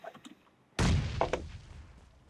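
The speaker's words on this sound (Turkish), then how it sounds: "Bomba ata ata gidiyorlar ya." In the mobile game PUBG Mobile, a grenade goes off with a sudden loud booming blast that decays over a second or two, following quieter faint game noises, with a second smaller burst inside the tail.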